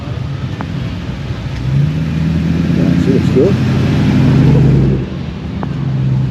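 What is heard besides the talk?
car engines revving at a beach car festival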